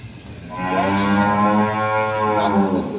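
A dairy cow at a dairy farm gives one long, loud, close moo lasting a couple of seconds, with no talking over it.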